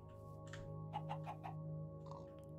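Chickens in the video game Minecraft running the SevTech: Ages modpack, a short run of four or five soft clucks in quick rhythm, fairly faint over a steady low hum, with no talking.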